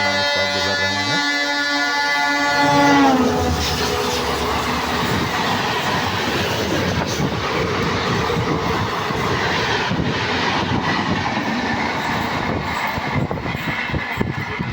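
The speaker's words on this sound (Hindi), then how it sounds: "commissioner railway safety महबूबापुर railway station से नॉन स्टॉप गुजर रहे हैं" CRS special speed-trial train rushing non-stop through Mahbubapur railway station on the newly doubled Sitapur line, a loud continuous roar of wheels and rumbling wagons close by, with a brief horn-like tone at the start.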